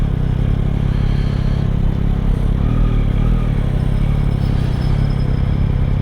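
A 2023 Yamaha MT-09 motorcycle engine under way while riding, a loud, steady, close rumble with a dense low drone that holds throughout without breaks.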